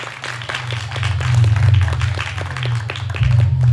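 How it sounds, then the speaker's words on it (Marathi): Audience applause in a hall at a speech competition, steady crowd clapping with a low hum underneath, sustained for several seconds and swelling slightly. "तर तिघांच्यासाठी सर्वांकडून टाळ्या."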